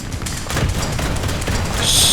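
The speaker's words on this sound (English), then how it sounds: "I only have to shoot a few times with Ostwind" Flakpanzer IV Ostwind anti-aircraft gun in War Thunder realistic battles firing a few heavy booming rounds in quick succession, close and loud, with a rumbling tail and no talk.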